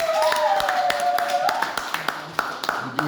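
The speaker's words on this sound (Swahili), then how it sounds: "Hebu mpe Yesu makofi." A church congregation at a New Year service claps in a run of sharp, rhythmic hand claps while a preacher's voice carries over the clapping.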